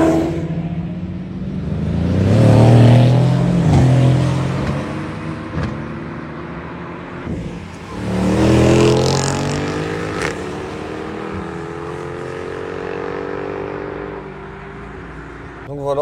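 An Audi S3 (8Y) four-wheel-drive car pulling away under launch control, engine revving and rising in two loud surges with tone climbing through the gears, and people talking over it.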